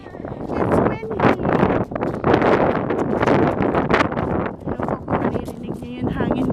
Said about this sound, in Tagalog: It's windy. It's windy.